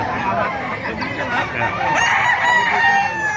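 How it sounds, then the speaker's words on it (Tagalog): Gilmore gamecock roosters crow over one another at a busy poultry market in Bocaue, Bulacan, overlapping calls rising and falling against crowd murmur and faint voices in the background. "Pakita natin mga manok nila, mga Gilmore."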